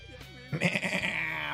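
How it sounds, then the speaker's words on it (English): A goat bleats once in a drawn-out, wavering, nasal cry, loud and close, starting after a brief quiet moment. "Is that how goats sound?"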